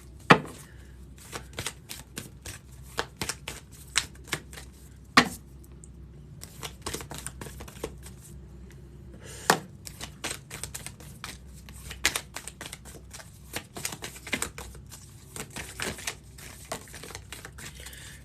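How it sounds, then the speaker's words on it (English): Tarot cards being shuffled by hand, crisp riffling and tapping snaps in uneven bursts, close and fairly quiet, with no talking. "Let me get you some cards, Katie."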